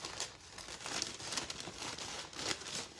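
Scissors cut through a recycled paper picture with continuous close crinkling and rustling of the paper, soft and steady, with no talking.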